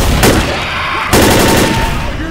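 Loud, dense gunfire in the zombie shooter Left 4 Dead, with a burst of rapid shots, a brief lull, then a second sustained volley, close and overlapping with game noise.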